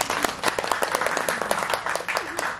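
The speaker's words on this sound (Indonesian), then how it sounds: "Tepuk tangan dulu dong." Live applause from an audience at an Indonesian gathering of former prisoners, a burst of many hands clapping with sharp, uneven claps at close range and no talk over it.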